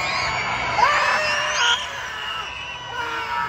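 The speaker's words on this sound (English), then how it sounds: "Somebody, anybody, everybody, scream!" A baseball stadium crowd screams and cheers loudly in a sustained roar, with shrill whoops rising over the mass of voices, fading slightly toward the end.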